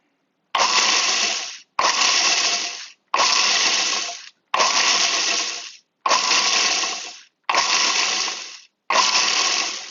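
Electric grinder coarsely grinding oats for bannocks in a home kitchen, seven short loud whirring bursts of about a second each, evenly spaced with brief silent gaps between pulses.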